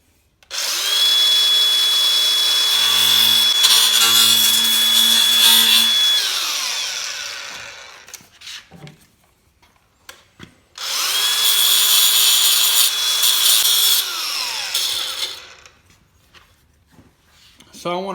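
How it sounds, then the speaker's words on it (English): Two long bursts of a high-pitched grinder whining against the metal edges of Polaris RZR 1000 XP parts, each several seconds, separated by a pause with light clattering. "I'm just going to take the grinder and just touch these edges on both these pieces"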